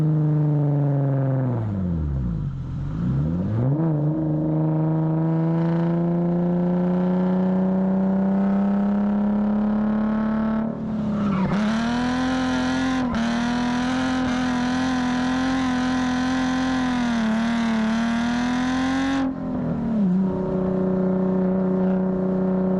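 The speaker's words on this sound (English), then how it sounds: "We're gonna go take the Z for a test ride and get Mike's reaction to his new exhaust" Nissan 350Z with new ISR blast pipes exhaust revs up and down close by, a throaty rasping drone that dips, climbs into a sustained high-rev howl, then settles back to idle, no talking.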